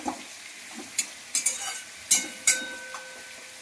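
Spices with turmeric and dry red chili powder being stir-fried in a pan, a low sizzle broken by several sharp scrapes and clinks of a spoon against metal.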